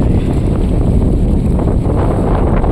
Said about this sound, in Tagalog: Ayan, sobrang lakas ng alon.